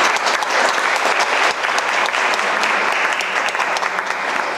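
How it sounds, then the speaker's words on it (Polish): An audience at a poetry gala breaks into applause, a dense, loud and sustained wall of clapping from many people that carries evenly from start to finish. "Prosimy o wstępne brawa."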